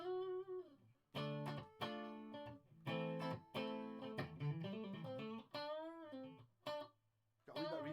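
An Octoblastercaster electric guitar with a high-output pickup, selector in position 4, plays through a Laney VK112 amp with a touch of reverb, giving driven, sustained notes and chords in bursts separated by short pauses.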